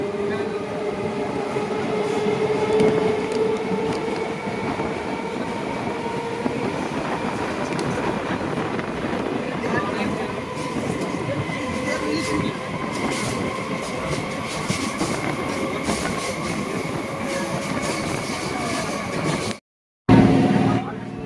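The Howrah–Digha EMU special runs through Purba Medinipur with a loud, continuous rumble and rattling wheel clatter from onboard, faint voices underneath and a brief dropout near the end.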